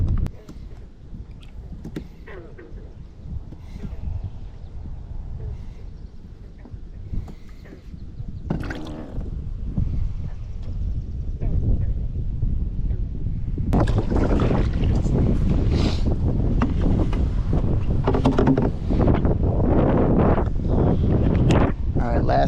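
Strong wind buffets the microphone on a swamp pond while fishing from a boat, a low continuous rumble that grows heavier and gustier partway through.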